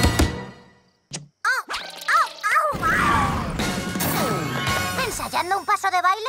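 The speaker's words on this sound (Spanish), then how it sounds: "¡Nada puede sobrevivir a mi mega triple puñetazo!" Cartoon impact effects for a mega triple punch smashing a rock: a sharp crash and whacks ring out amid excited character voices and music, with heavy hits landing in quick succession.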